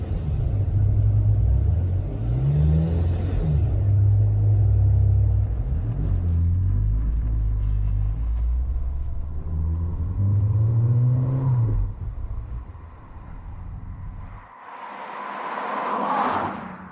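A Maserati sports car engine rumbles deeply at idle with several revs rising and falling, then a brief pause before a louder burst of revving.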